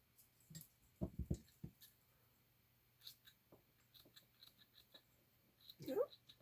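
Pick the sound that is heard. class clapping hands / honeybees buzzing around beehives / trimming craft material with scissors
trimming craft material with scissors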